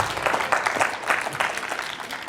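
Studio audience applauding a quiz-show contestant, a short burst of dense clapping from a small crowd, steady and fairly close, lasting a couple of seconds.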